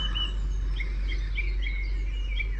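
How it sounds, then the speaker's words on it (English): Small birds chirp and sing in a garden, short bright repeated calls at a moderate distance over a steady low hum. "You can see all the bees buzzing around and birds singing in the trees"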